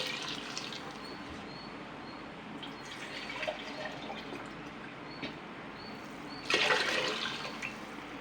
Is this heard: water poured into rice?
yes